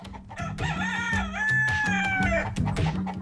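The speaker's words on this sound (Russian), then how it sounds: "Моя дочь разводит и продает куриц." Backyard coop chickens including a rooster crowing loudly and close over a steady background of hens clucking, with repeated crow calls across the short span.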